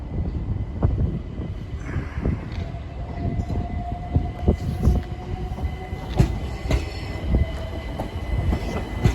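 London Overground train at a station platform, with wheel clatter, squeals and sharp metallic knocks over a busy rumbling background as it moves along the platform.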